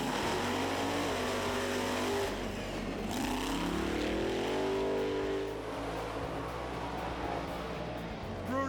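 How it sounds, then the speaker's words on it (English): Monster trucks race at a 2009 Monster Jam event, with Brutus and Maximum Destruction running side by side in the lanes. The engines roar loud and continuous, their pitch climbing as they accelerate and then settling into a sustained rumble. "Brutus is running tough, but Tom Meents has the lead into the turn."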